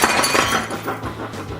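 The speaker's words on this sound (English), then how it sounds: "Our martini glass has turned into a spider web of cracks." A martini glass cracks and shatters from liquid nitrogen, giving a loud, dense burst of glassy crackling and tinkling that runs the whole short moment, with no talking.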